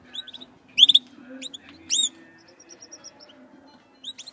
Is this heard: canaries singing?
yes